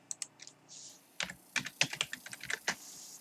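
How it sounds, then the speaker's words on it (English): Typing on a computer keyboard: a few scattered clicks, a pause, then a quicker run of crisp, close keystrokes with no voices. "Let's see if I can type this in."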